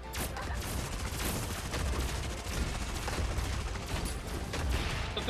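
Mecha weapons in Super Mecha Champions fire in a dense, continuous barrage of loud gunfire and booms, with no clear gaps throughout.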